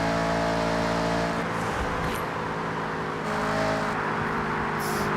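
Audi RS6 engine in the racing game Forza Horizon, a loud sustained engine drone that shifts pitch and surges as the car accelerates, heard alone without talk.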